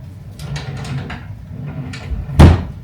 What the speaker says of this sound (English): We have to latch the door shut, but it still works.